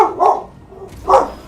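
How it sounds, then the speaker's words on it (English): A dog named Charcoal gives two separate loud barks close by, about a second apart, with a quiet pause between them. "Ah, stop barking. What are you barking about?"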